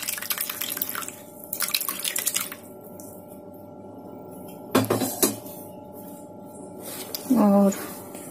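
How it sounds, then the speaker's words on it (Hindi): Whey drips and pours through a cloth strainer from curdled milk for homemade mozzarella. Splashy bursts come early, then scattered drips and a couple of sharper splashes follow over a steady kitchen hum. "अब हमें इसको छान लेना है।"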